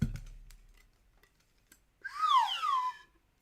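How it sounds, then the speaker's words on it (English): A slide whistle plays one quick wavering, swooping glide after a moment of near silence, close and fairly loud. "I've only got a slide whistle."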